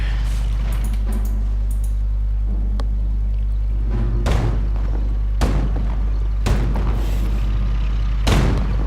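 An Ostwind flak tank fires in the Company of Heroes game: four heavy, booming shots land about a second apart over a constant low engine rumble, with a few lighter clicks early on.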